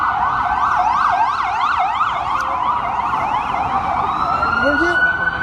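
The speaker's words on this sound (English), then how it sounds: "We'll wait for these sirens to go, and then I'll ask you another question." A wailing siren sweeps up and down continuously, loud and close, with a second yelping siren layered in as emergency vehicles pass over steady traffic noise outside Trump Tower in New York.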